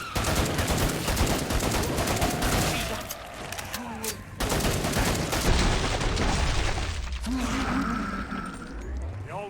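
Gunfire in the zombie shooter Killing Floor 2, rapid bursts of shots crackling loudly over a dense, chaotic battle din, with a brief break midway and a continuing roar of combat afterward.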